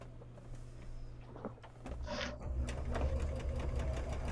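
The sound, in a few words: sewing machine stitching a zigzag stitch on a beach bag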